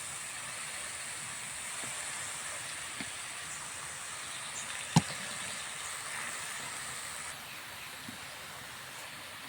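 Mustard oil hisses faintly and steadily in a cooking pan, a soft continuous sizzle with a single sharp tick midway and no talking.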